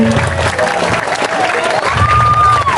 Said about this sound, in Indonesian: Tepuk tangan ini benar-benar hari ini luar biasa sekali.